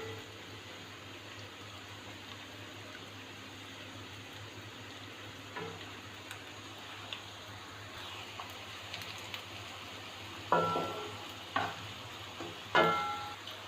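Chopped onions frying in oil in a pan, a quiet continuous sizzle joined later by a few sharper clinks and scrapes of a utensil; no voices.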